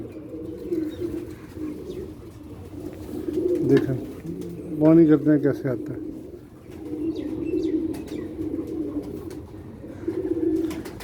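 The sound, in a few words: pigeon cooing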